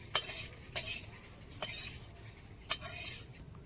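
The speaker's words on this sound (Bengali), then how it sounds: "চালটা দিয়ে এবারে নেড়ে নিচ্ছি ভালো করে" Rice is stirred into milk for a date-palm jaggery payesh made with Gobindobhog rice; a spoon knocks and scrapes the pot in four distinct, spaced strokes over a soft background hiss.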